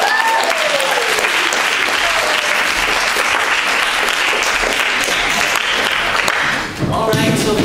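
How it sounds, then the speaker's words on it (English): A large audience at a fall hat show applauds loudly and continuously, a thick roar of clapping and cheers with a brief dip near the end, then a voice starts speaking over it. "Let's give these lovely people a round of applause."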